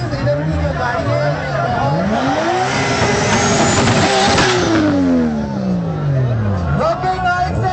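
A Mazda RX-7 sports car revs hard at an outdoor sports car and heavy bike show in a park, its engine note climbing and falling in loud sweeping pulls, close by amid crowd babble.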